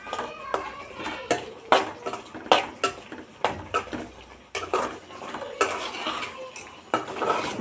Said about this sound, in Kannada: ಎಣ್ಣೆ ಎಲ್ಲ ಬಿಡೋ ತನಕ ಚೆನ್ನಾಗಿ ನಾವು ಅದನ್ನು ಕಲಿಸ್ಬೇಕು